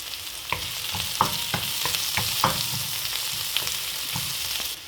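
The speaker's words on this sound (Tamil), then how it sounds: "அப்படியே போட்டு கிளறுவோம்" Banana flower seasoned with salt, turmeric and chili powder being stirred as it fries in oil, with a steady close sizzle broken by repeated scraping stirs in an irregular rhythm, no voices.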